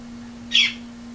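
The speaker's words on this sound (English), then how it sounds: "The birds out there, they don't seem to care." A single short bird call rises briefly out of a quiet background, over a steady low hum.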